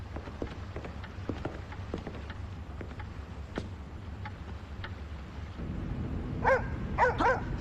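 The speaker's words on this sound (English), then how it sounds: "Good dog, Smiley. Attaboy" A dog gives a few short yips and barks late in the scene, set against a steady low background rumble and scattered faint knocks.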